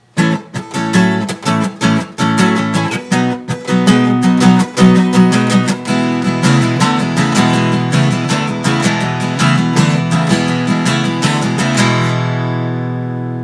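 Rapid guitar strumming rings out in quick, even strokes, bright and close, gradually settling into a sustained chord that fades at the end.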